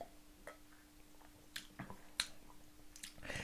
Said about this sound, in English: let's have another glug of it